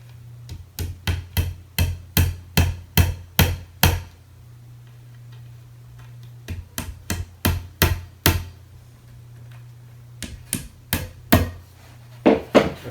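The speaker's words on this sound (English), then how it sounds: "I'm just kind of tapping these into place" Rapid, even hammer taps on wooden pegs of an IKEA Kleppstad armoire, a steady run of sharp knocks, a pause, then more bursts of tapping close up.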